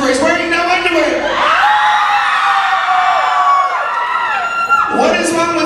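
A nightclub crowd screams and cheers loudly and continuously, with whoops and high shouts blending into a dense wall of sound that holds steady for several seconds before easing at the end.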